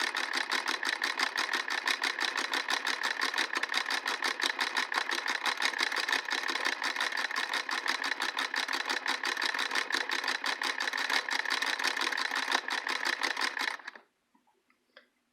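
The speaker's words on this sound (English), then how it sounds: "it is sewing just fine with this batting." A Singer Model 20 sewing machine stitching through batting makes a rapid, even mechanical clatter that runs steadily for about fourteen seconds and then stops; it is close, with no talk.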